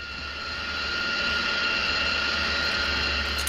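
Airplane engine sound effect in an amateur Biggles radio play, a steady loud droning hum that swells slightly and holds, with no voices over it.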